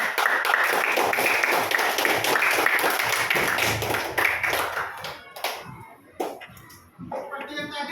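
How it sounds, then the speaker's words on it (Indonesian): Group clapping from a classroom team, a dense burst of many hands for about five seconds under some speech, then thinning to scattered claps and voices. "Kelompok 3 tepuk tangan."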